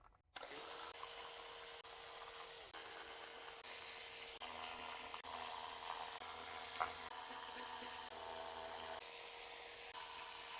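A power driver steadily whirs as it backs out 10 mm bolts from the intake manifold of an Acura RL, a continuous close mechanical drone with slight pitch shifts and no speech.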